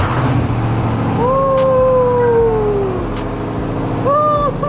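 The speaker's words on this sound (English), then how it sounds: "Let's get a cold start for y'all." A 2024 Ram 1500 TRX with a supercharged Hellcat engine cold-starts nearby, a loud steady idle rumble with a rising whine that glides and falls, then another brief whine near the end.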